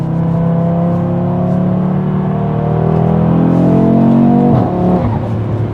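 A Honda Civic Type R or Audi RS3 sports car accelerates hard, its engine note climbing steadily and loudly from inside the cabin before a gear change near the end.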